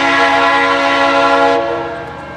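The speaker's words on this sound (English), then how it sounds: "so listen to this EMD prime mover." A Norfolk Southern train led by an EMD locomotive sounds a loud, sustained multi-chime horn close by, the prime mover rumbling beneath it, holding steady before fading at the end.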